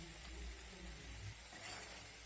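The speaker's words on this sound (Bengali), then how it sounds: "কাঁচা লঙ্কাটা দিয়ে আমি আবারও একটু নাড়াচাড়া করে মশলাটাকে কষিয়ে নেব।" Spices and chopped green chilies fry in oil in a pan while being stirred, making a soft, steady sizzle that ends with a sharp click.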